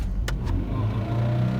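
A car engine pulling uphill as the accelerator is pressed, a steady low rumbling drone with a slight rise, broken early by two sharp clicks, with no talk over it.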